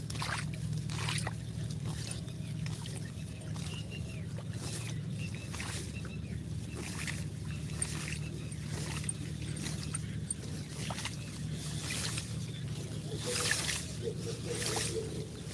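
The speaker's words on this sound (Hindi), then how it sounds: "पानी भर गया है खेत में ना, बेरन पानी में बैठकर उखाड़ना पड़ रहा है।" Rice seedlings are pulled up by hand in a flooded paddy field, making repeated wet sloshes and squelches in shallow water in an uneven rhythm, close by and moderately loud.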